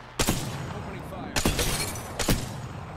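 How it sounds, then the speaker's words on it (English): Sniper rifle gunshots ring out in the Apex Legends video game: three loud, sharp cracks about a second apart, each followed by a brief decay over steady background game noise. "Sniped them a couple times"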